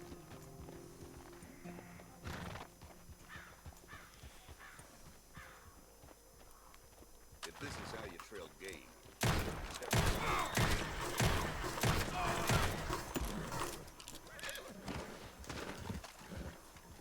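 A horse in Red Dead Redemption 2, its hooves clip-clopping at a walk, faint and steady at first, then louder and busier with rougher noise in the second half.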